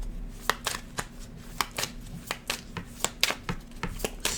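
A deck of tarot cards is shuffled steadily up close, a run of quick riffling slaps and shuffles, with a faint voice under the card noise.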